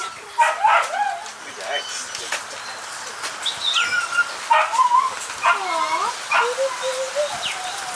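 Jack Russell terriers bark in short sharp bursts at a kennel in Limuru, Kenya. The barks come repeatedly over a constant outdoor background, with birds chirping in between.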